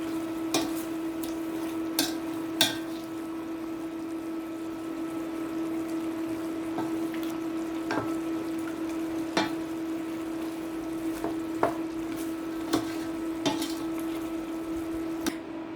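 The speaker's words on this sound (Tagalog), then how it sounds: "kumukulo na siya ulit guys" A pan of chicken adobo with coconut milk simmers with a low steady bubbling hum, broken by occasional light clinks of a utensil against the cookware.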